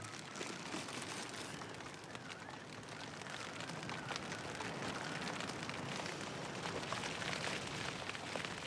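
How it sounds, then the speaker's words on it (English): Heavy rain falls steadily on the Greenland coast, a dense, continuous hiss with no let-up and no voices, close and fairly loud throughout. "It's still raining just as heavy."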